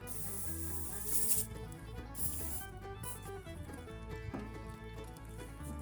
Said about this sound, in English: Spray down everything right there real good.